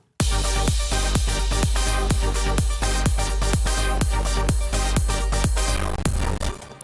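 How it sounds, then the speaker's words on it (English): A synth chord made in Serum pulses in rapid repeated stabs over a heavy bass, its tone sweeping as a filter opens and closes, loud and alone. "this is a filter modulated chord synth"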